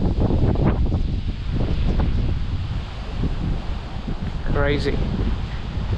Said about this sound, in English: it's very windy and quite crazy weather today. Yeah. Wow. Just have a look at the wind.